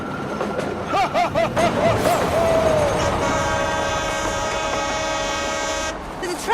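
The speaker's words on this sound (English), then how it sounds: "There's a train!" Train passes close by, its horn sounding a steady sustained blast over loud rumbling wheels and rail noise, with brief talk at the start.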